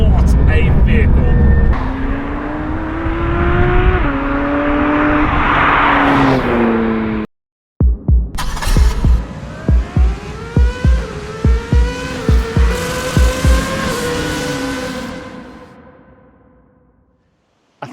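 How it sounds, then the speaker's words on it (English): Porsche 992 GT3 RS engine revving hard through rising gears, a loud close howl that climbs in pitch, cuts out, then returns with a string of sharp throttle blips before fading away. "welcome to the Porsche 992 GT3 RS"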